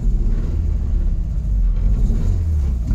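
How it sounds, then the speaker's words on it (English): Drift car at a drift testing day, its engine running rough and misfiring, a loud continuous low rumble with uneven pulsing close by, no talk. "my car's misfiring already"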